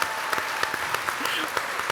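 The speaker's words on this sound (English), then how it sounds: "Can we please get one more round of applause for our panelists?" An audience at a live community block party event applauds its panelists with close, crisp claps, and a voice briefly sounds beneath the clapping.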